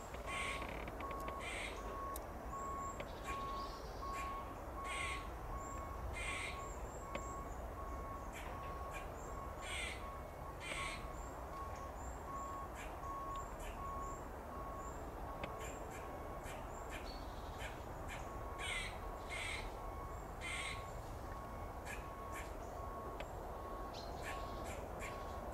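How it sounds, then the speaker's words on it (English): A grey squirrel chatters in repeated rapid harsh bursts among trees, its agitated calls rising and falling over a steady outdoor background. "you hear the unmistakable chatter there of the grey squirrel"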